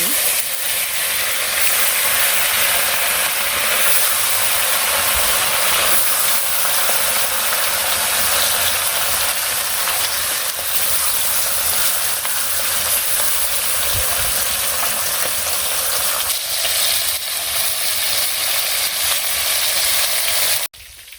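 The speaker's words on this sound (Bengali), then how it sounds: "তেল দিয়ে দিছি আস্তে আস্তে সব মাছগুলো ভেজে" Fish frying slowly in cooking oil in a village kitchen, a steady, dense sizzle with faint crackles running without a break and stopping abruptly at the end.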